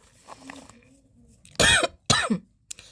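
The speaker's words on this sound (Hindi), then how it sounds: "मुझे खांसी हो रही है, उसे थोड़ा इग्नोर कीजिएगा" Two sharp, loud coughs close to the mic, one right after the other, followed by a short faint throat noise; quiet murmuring before them.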